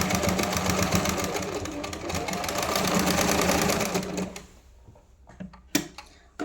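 A sewing machine runs a fast, steady stitching whir through blouse fabric for about four seconds, loud and close, then stops, leaving a few sharp clicks and knocks.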